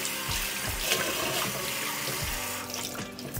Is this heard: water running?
yes